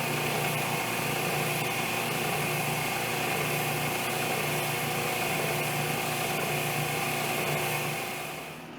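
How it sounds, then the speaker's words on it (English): A power sander works a slight bevel into wooden bench legs, giving a steady, loud, continuous motor whine that holds even for the whole stretch, with no talking. "I'm just using the sander and sanding it to the line."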